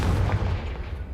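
A Confringo blasting-spell explosion in a wizarding video game makes a deep, booming rumble that rolls steadily and fades slightly over about a second, loud and close with no talk.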